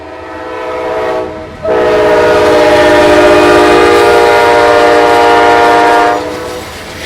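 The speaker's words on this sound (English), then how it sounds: "We catch one last train at Long Bridge Park, this time a southbound Amtrak Northeast Regional." A southbound Amtrak Northeast Regional train sounds its horn at Long Bridge Park, a loud sustained blast that starts after a short approaching rumble, holds for several seconds, then cuts off as the train's roar carries on.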